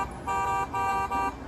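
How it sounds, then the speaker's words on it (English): A car horn in the Mystery Case Files: Dire Grove video game gives three short, even honks in a row, steady and moderately loud, with no talking over it. "Can we honk the horn?"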